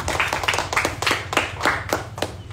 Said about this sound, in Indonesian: Mungkin bisa tepuk tangan untuk materi kita.